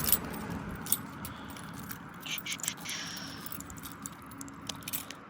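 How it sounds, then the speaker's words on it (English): Keys jangle and clink in short bursts as someone fumbles one-handed through a ring trying to work the lock of a 2022 Coachmen Spirit 2557RB camper, with faint handling noise and a quiet background. "Ah, yes, the most fun thing in the world, watching somebody messing around with keys."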